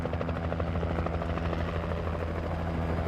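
Helicopter flying in the Alan Wake video game, a steady, close rotor chop and engine drone that holds at an even level throughout, with no talk.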